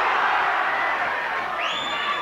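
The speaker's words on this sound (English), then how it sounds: "The crowd roar every success of Brodie when he comes in." A large arena crowd at a super bantamweight boxing championship bout roars and cheers continuously, a dense loud wash of voices with a rising whistle or shout near the end.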